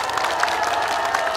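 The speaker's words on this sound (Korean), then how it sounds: "큰 박수를 해주시기 바랍니다." Audience applause at a Korean political rally during a presidential candidate's speech, a brief burst of dense, steady clapping from a crowd.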